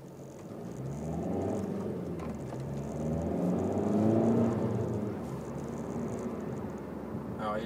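A Suzuki SX4 2.0 DDiS diesel in two-wheel drive drives along with a steady engine hum and road rumble that rises and dips as gears change, close and continuous with no voice over it.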